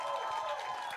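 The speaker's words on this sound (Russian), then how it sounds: "Еще раз аплодисменты нашему бас-гитаристу" Concert audience clapping and cheering for a bass guitarist at a live rock show, a brief dense wash of applause from a crowd that sits mostly at one steady level.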